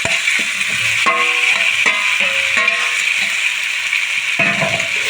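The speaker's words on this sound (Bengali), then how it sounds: "ফুলকপিগুলো খুব ভালো করে কষিয়ে নেব সবজির সাথে।" Cauliflower is stirred and sautéed in a pan with ginger, cumin and green chilli paste, a close, constant sizzle broken by repeated scraping strokes of a spatula, with no voices.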